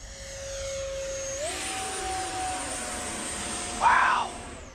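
A 3D printed RC F22 jet driven by a Freewing motor gives off a loud, steady turbine-like whine that steps up in pitch and intensity early on, with a brief louder surge near the end.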